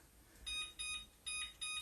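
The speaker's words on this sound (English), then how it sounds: "I'm going to set the kitchen timer for another 10 minutes" A kitchen timer being set in a home kitchen gives four short, evenly spaced electronic beeps, close and fairly quiet in an otherwise still room.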